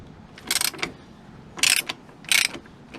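A ratchet wrench loosening a bolt on a KTM 790 Adventure skid plate, three short bursts of rapid clicking separated by brief pauses, close up and alone.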